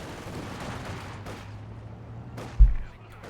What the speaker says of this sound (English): Bit of skirmishing here, grenadiers clashing with their conscripts.